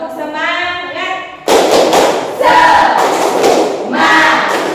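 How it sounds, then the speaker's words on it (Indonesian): A school group does a rhythmic spirit clap-chant, a voice first calling out, then sharp unison claps mixed with children's shouted chanting, loud and close. "Kita tepuk semangat dulu, Nak. Tepuk semangat."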